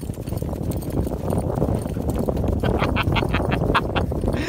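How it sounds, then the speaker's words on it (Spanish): Horses run on the ground with quick, rhythmic hoof clip-clops against a loud, rumbling background, the hoofbeats becoming clearer and closer in a fast series toward the end. "A ver, queremos ver cómo corren los caballos"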